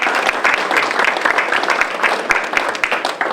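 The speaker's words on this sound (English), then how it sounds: "Let's give a round of applause again for our host." Sustained audience applause at a Rotary Club officers' installation, a dense, steady wash of many hands clapping at close range with no talk over it.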